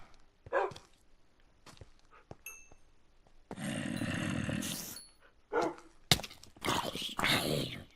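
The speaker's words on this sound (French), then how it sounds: "on va juste chercher les chiens" Dogs barking in the Minecraft video game, a run of short yips and barks mixed with growly bursts, heard fairly close amid game sounds and intermittent noise.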